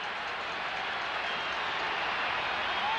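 Football stadium crowd at a 1997 Marshall at West Virginia college football home opener, a steady, dense roar of many voices filling the air evenly throughout without breaks.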